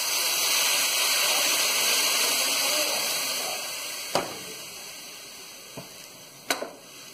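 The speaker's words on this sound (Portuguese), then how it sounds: "Agora aqui eu já vou pôr um pouco de água" Lukewarm water pours into a pot of rice in a steady gushing stream that gradually tapers off, followed by a few sharp clinks of a utensil against the pot.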